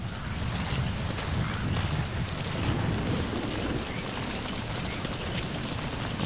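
Steady rainfall hisses across the landscape of Metal Gear Solid V, a dense, even wash that continues unbroken throughout.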